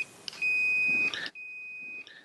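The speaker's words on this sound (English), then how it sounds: "you should hear the sound of the beep" A Power Probe circuit tester gives a continuity beep as its two probes touch during AC compressor testing: a steady electronic tone sounds clearly, cuts off briefly, then returns for a second sustained beep, with no talking.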